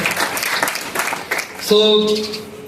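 Students at Jawahar Navodaya Vidyalaya Banda, at a Vaisakhi and foundation day gathering, clap in a short burst of applause, followed by a sustained high tone as the clapping stops.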